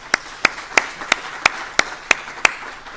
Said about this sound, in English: a quick round of applause for our panelists for joining